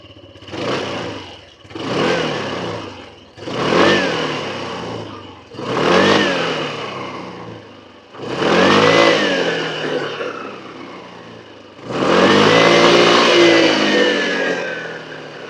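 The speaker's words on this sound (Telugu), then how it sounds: "సో ఇదైతే మనకి ఐడ్లింగ్లో సౌండ్ అన్నమాట." A Hero Xoom 160 scooter engine runs alone close by in six separate bursts, each rising and falling, with the last two longer and louder.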